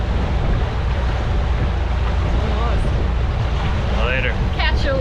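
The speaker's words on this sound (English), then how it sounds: "it's about time for us to do some sailing" Sailboat underway in wind and waves ahead of a tropical storm, with a steady broadband rush of wind and water throughout and faint tonal chirps near the end.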